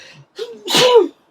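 A single human sneeze, close and fairly loud, with a short inhaled build-up followed by one sharp burst, in an otherwise quiet indoor room.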